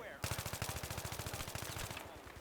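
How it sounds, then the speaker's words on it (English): An AEK assault rifle fired in Battlefield 3 on the Seine conquest large map: a loud, rapid, evenly spaced stream of automatic gunshots lasting about two seconds after a brief lead-in. "AEK, it has a ability to put ammo down range."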